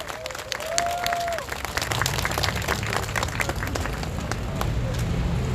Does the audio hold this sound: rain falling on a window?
no